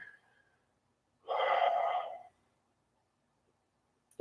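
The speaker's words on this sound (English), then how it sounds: "And just focus on the breathing." A single deep breath during a yoga session, one soft airy inhale or exhale lasting about a second, close and isolated against near-silence.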